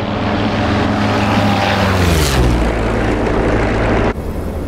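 A propeller aircraft engine in a Vietnam War-era flight combat game drones loudly and steadily, its throbbing harmonic tones sliding down in pitch as the throttle eases, then settling into a constant close-up rumble.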